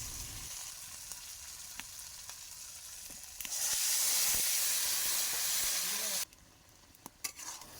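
Grated coconut and boiled taro drop into a spice paste frying in a pan, and a loud, close burst of hissing sizzle rises over a few seconds before settling back into quieter stirring.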